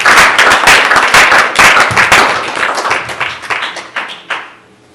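Members of a church congregation clap together loudly and rhythmically in praise, the crisp claps building steadily before thinning out and fading to quiet near the end.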